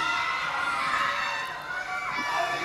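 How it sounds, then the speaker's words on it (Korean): A large crowd of fans cheers and shrieks at a red carpet event for Demon Slayer: Infinity Castle in Yongsan, a continuous high-pitched roar of excited voices that swells and dips slightly without pause. "もうものすごい歓声ですよ"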